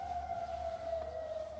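Air raid siren sounding across Jordan during a military coronavirus lockdown, a single sustained wailing tone held steady with a slight waver, distant and fairly faint, alone without voices.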